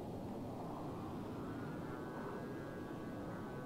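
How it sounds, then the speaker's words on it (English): Jet aircraft approaching in Microsoft Flight Simulator 2020 near an aircraft carrier, a steady roaring engine drone with a faint rising whine, sustained and fairly quiet without talk. "I hear a loud jet behind me"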